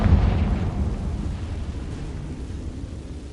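The Confringo fire spell goes off in the Hogwarts Legacy video game, a loud blast that hits at once and trails off into a rumbling roar, with no talking.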